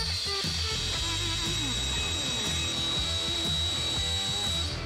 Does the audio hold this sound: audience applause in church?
no